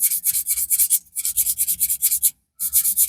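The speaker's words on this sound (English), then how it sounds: "So I've sanded the bottom end. Let's sand the top end as well," A porcupine quill's tip is sanded by hand for a fishing float, giving close, rhythmic back-and-forth rasping strokes, about a dozen in quick succession with a short pause before a few more.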